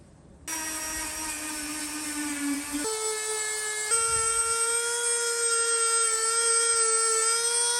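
A high-pitched motorized whine runs steadily, stepping to different pitches as the power sander's speed changes while sanding leather bag edges outdoors, loud and close with no voices.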